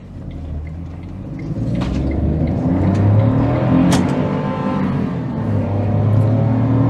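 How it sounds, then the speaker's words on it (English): Three-cylinder engine of a 2007 Smart Fortwo W451 Passion driving on the road, a low thrumming drone that swells as the car pulls away after a quieter start, then holds steady and loud from inside the cabin. "So I'm a huge fan of 3-cylinder engines, so I'm always going to love that soundtrack."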